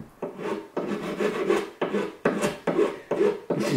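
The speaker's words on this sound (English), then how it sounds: "I'm just going to use a rasp for that" A rasp files across the tweed covering of a 1952 Fender Tweed Pro amp, rough scraping strokes repeating in a steady rhythm of about seven close, loud passes.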